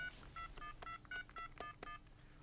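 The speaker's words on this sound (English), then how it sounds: "To make a call, you dial the number." Telephone keypad dialing, a quick sequence of about eight touch tones, each a short steady beep with brief gaps between, clear and alone with no talk.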